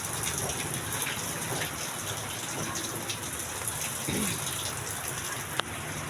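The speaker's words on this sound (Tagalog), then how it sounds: "Yan po, ang lakas ng ulan doon." Heavy typhoon rain pours steadily, a dense continuous hiss of downpour with gusting wind, close and loud throughout, with one brief sharp knock near the end.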